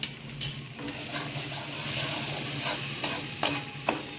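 Paneer frying in a pan over a low-to-medium gas flame as cumin powder is stirred in, with a soft continuous sizzle and several sharp scraping and clinking strokes of the spatula against the pan, close and quiet, no talking.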